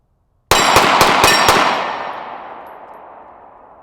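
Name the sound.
pistol gunfire, Star Model 30M firing 9mm NATO rounds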